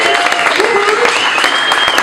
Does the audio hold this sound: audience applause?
yes